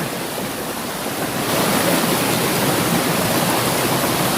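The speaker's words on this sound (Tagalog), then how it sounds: "Ito yung nakatagong falls ng Bundok Arayat." The hidden Maria Sinukuan waterfall on Mount Arayat, flowing again after days of rain, gives a steady broadband rush of falling water that swells slightly louder partway through, with no voices.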